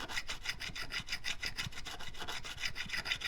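A Chinese-made diamond fret crowning file rasps back and forth across a guitar fret in quick, steady strokes, close and fairly quiet, with no voices.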